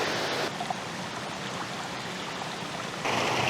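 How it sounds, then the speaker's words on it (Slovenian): Water flowing at the source of the Mali Javornik stream in the Karavanke mountains, a steady, close rushing wash that rises and falls slightly in level and has no voices over it. "Izvir Malega Javornika."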